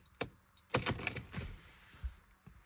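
Keys jangle and a key turns in the ignition of a Mercedes-Benz C-Class to position 1, a short cluster of metallic clinks and clicks up close with brief quiet gaps.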